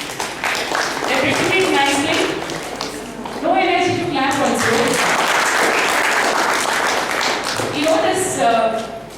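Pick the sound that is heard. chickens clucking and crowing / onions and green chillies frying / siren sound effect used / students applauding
students applauding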